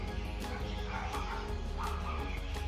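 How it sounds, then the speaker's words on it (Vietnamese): Dogs barking and yipping close by, a few sharp barks over a steady background noise. "Chó sủa ồn ào quá"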